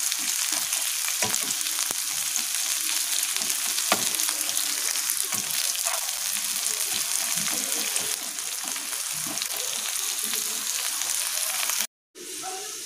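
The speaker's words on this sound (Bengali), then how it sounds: "এবার পেঁয়াজটা আমরা বাদামি করে ভেজে নেব।" Onions frying in oil and ghee until browned, a dense steady sizzle with scattered crackles and stirring scrapes, close and continuous, cut off briefly near the end before resuming more softly.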